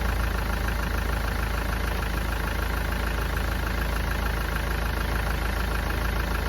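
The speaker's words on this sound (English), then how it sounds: "You may need to leave the engine running for 5 to 10 minutes to get up to temperature." A car engine idles steadily during a head gasket failure test, a constant dense mechanical drone with a faint knocking texture, unbroken and close with no talk.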